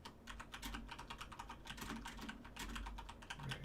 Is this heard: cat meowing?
no